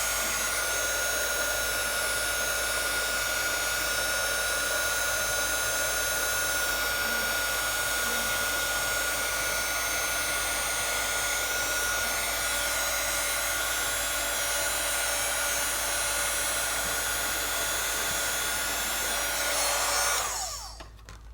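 Heat gun used for heat embossing with a Cricut on watercolor paper, a continuous loud close blowing roar held steady for about twenty seconds before it cuts off at the end.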